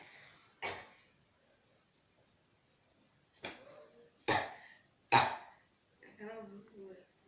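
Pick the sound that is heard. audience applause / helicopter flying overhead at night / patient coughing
patient coughing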